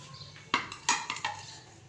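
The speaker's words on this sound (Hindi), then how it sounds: "इसको पहले हम अच्छे से मिक्स कर लेंगे।" Dahi bhalla chaat being mixed in a bowl, with green chillies and whole mint leaves, giving a few clinks and scrapes of spoon on dish, close and moderately loud, without speech.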